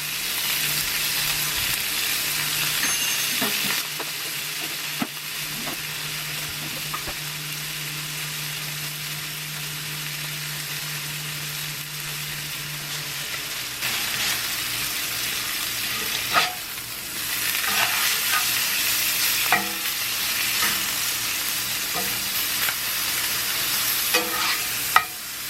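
Steak pieces for a Philly cheesesteak fry in a pan, a steady broadband sizzle throughout with occasional stirring scrapes and clicks, a low hum in the first half, close and loud with no talking.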